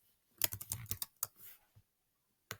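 Keys clicked in quick bursts while typing into a text box on a Schoology app, a fast cluster of close, crisp taps followed by a few isolated strokes, with no talking.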